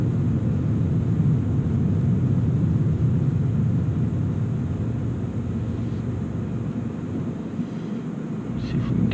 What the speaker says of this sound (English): I wanted to just kind of give a little bit of gas so you just hear the shift and hear the engine